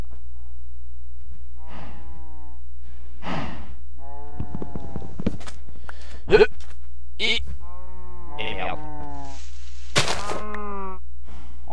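Cows in a survival video game being attacked, giving a series of harmonic moo-like bleats and groans with hits and thunks, while someone talks and exclaims over them.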